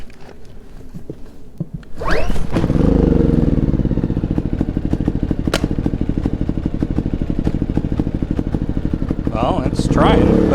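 A portable generator with its battery disconnected gets started by hand and catches, its engine settling into a loud, steady, fast-chugging idle that runs close and continuous after a few clunks and a pull.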